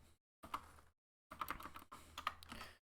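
Short bursts of typing on a computer keyboard during a Blender modelling tutorial, three quick clusters of close, soft key clicks separated by brief silences, with no voice.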